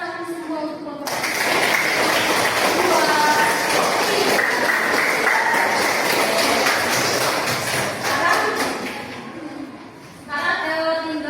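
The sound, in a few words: class applauding group 2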